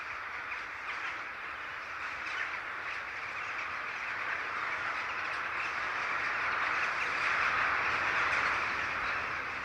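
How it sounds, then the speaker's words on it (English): Large flock of jackdaws flying toward a winter roost: a constant, dense chatter of overlapping calls that stays steady and slowly grows a little louder, with no talking. "Their calls are deafening as the black cloud of birds wheels its way towards the traditional winter roost"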